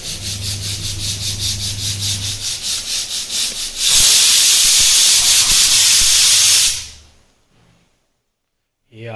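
A pressure cooker cooking dal in a home kitchen puffs rhythmic steam pulses, then lets out a loud, sustained hissing whistle for about three seconds before it cuts off to near silence.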